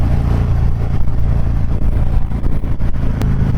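A custom Harley-Davidson Fat Bob motorcycle rumbles along the road, its deep engine loud and close with steady throttle and wind noise, no talk.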